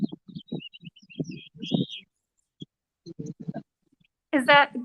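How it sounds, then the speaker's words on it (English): Pine siskins, lesser goldfinches and Scott's orioles sing in a morning chorus of thin, high chirps and twitters. A louder call bursts out near the end, and people talk over the birds throughout. "There's just a cacophony of bird sound this morning."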